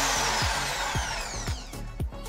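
A 550 W electric drill spins freely in reverse, its motor whine steady and close with a few short bursts as the trigger is worked, and no one speaks.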